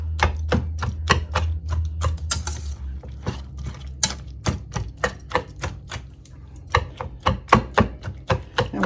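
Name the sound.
mixing and chopping squash casserole ingredients in a bowl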